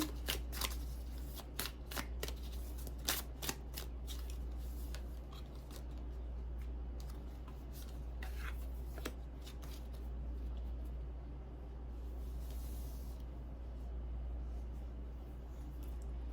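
Paranormal-themed tarot cards being shuffled up close, giving a series of crisp riffling snaps and papery clicks in the first few seconds, then softer, sparser shuffling over a steady low hum.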